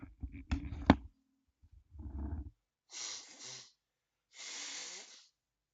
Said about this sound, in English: Excuse me one second while I blow my nose.